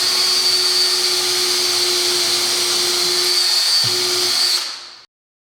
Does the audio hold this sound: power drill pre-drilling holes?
yes